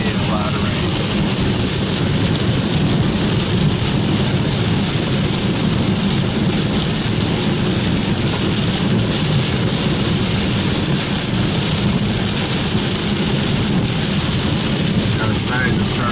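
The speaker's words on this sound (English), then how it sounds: "Definitely a lot of rain." Heavy rain pours steadily during a tropical storm in the Southern California desert, a dense, constant wash of noise with low rumbling underneath, continuous and close throughout.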